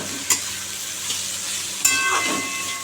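Snake gourd frying in a pan gives a steady close sizzle and hiss, broken by a couple of sharp clinks and stirring scrapes, with no talking.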